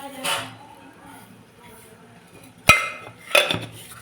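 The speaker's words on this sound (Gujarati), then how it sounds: "હવે સરસ મજાનું મિક્સ કરી લઈશું" A spoon stirs farali kadhi, a thickened yogurt curry sweetened with sugar, in a metal pot, making a few scattered metallic clinks and scrapes with a sharp knock near the end while someone talks.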